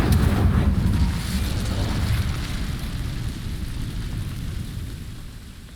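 Fire spell cast in the video game Hogwarts Legacy, a loud roaring, crackling burst of flame that swells at the start and then settles into a steady rushing blaze, with no talk.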